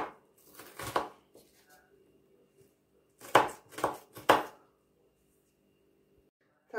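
A knife chops onion finely on a board: one short burst of cuts, a pause, then three sharp, close chops in quick succession, with quiet stretches between.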